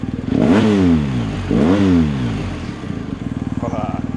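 Close, loud revving of a BMW R 1250 GS two-cylinder boxer motorcycle, two sharp throttle blips rising and falling, then a lumpy, pulsing idle.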